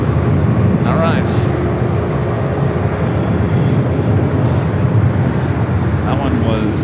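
A loud, close roar from an American Airlines jet at LAX bound for JFK fills the whole stretch, with people talking over the engine noise.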